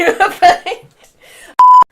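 A mobile phone gives off a single steady, loud electronic beep, clear and tonal, right after a stretch of chatter during a behind-the-scenes shoot.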